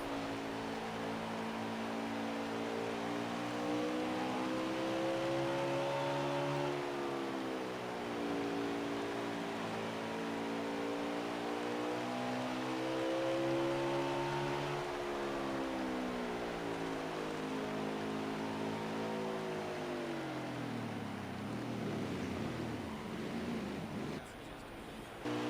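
Onboard a racing truck lapping Bristol Motor Speedway, the engine drones loud and continuous, its pitch rising and falling through the banked turns as it accelerates and lifts, with no talking.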